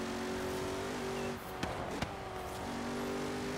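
A car engine in the racing game Forza Horizon 3, a steady droning hum with tonal whine that dips briefly, then a couple of sharp thumps before the drone settles again, heard alone at moderate level.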